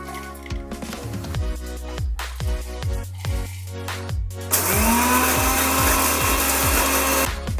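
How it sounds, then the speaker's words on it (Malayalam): A kitchen mixer grinder grinding spices whirs in short bursts, then runs continuously in a loud, steady grinding roar. "അതൊരു ജാറിലിട്ട് നമുക്ക് നല്ല രീതിയിൽ ഒന്ന് പൊടിച്ചെടുക്കണം"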